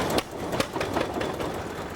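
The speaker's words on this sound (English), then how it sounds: "They're called flywheel engines, the name coming from the heavy flywheels that make them run." Antique flywheel engine running at an outdoor show, a steady rhythmic chuffing with regular beats a few times per second, moderately loud and close.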